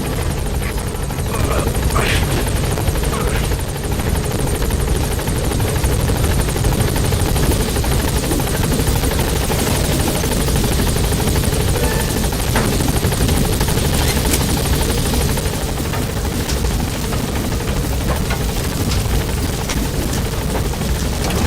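The Pequod helicopter from Metal Gear Solid V: The Phantom Pain hovers near a landing zone, its loud, steady rotor and engine drone filling the whole stretch without a break.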